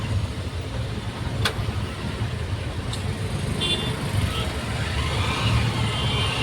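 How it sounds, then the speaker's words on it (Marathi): An auto rickshaw engine drones on through a ride, giving a steady rumbling road noise with traffic around it and a faint horn toot or two in the distance. "मी रिक्षामध्ये बसलेलो आहे"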